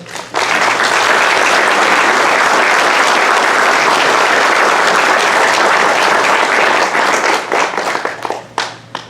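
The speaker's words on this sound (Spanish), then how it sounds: "demos un aplauso para recibir a la mesa" Sustained, loud audience applause fills a room at a book presentation as a panel is welcomed to the table, the dense clapping holding steady before thinning and tapering off near the end.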